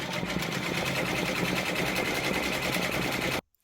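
A Brother embroidery machine stitches out a fabric tile, giving a rapid, regular needle clatter up close that runs steadily and then cuts off abruptly near the end.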